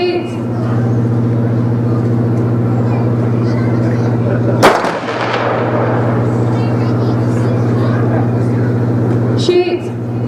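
A simulated 4-inch naval gun aboard the cruiser HMS Belfast fires with one sharp, loud blast, followed by a second weaker report near the end, over steady low machinery hum and crowd noise.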